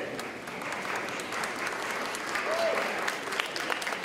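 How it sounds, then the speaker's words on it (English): An audience at an 8th grade school recognition ceremony applauds, sustained clapping from a crowd filling the room throughout, with faint voices mixed in. "now's the time you can really clap for that."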